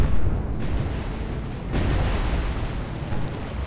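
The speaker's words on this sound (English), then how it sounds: "Five torpedo hits on the Atlanta." Torpedo hits explode against the cruiser Atlanta in the naval video game War on the Sea, a dense, roaring blast that rumbles and swells again midway, loud and close, with no voices.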